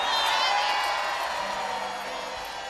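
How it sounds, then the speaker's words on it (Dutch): A large festival crowd at the 11vd11 2014 closing show applauds and cheers for the performer Big Benny, a dense, steady wash of clapping and voices that slowly fades across the clip. "Mogen ik een heel groot applaus voor onze grote vriend Oetreming"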